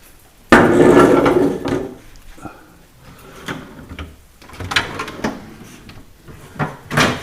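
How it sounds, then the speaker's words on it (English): Freezer drawers on a Sub-Zero 700TCI-2 refrigerator are pulled out and lifted, giving repeated plastic clunks, slides and knocks, close and fairly loud, with no talk. "Just pull them out till they stop."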